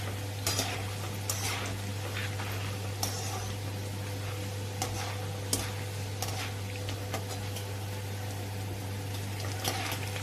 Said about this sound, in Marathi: हे आता तळून घेऊ थोडेसे या डाळीला जास्त तळायला वेळ नाही लागत